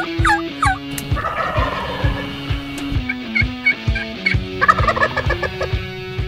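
Osceola wild turkey gobbling repeatedly in an outdoor hunting setting, several loud rattling gobbles in quick succession with bird calling mixed in, no talk.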